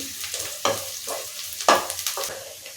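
Dried red chillies and onion frying in a pan on the stove, with a steady soft sizzle broken by several sharp stirring scrapes of a spoon against the pan. Nobody speaks.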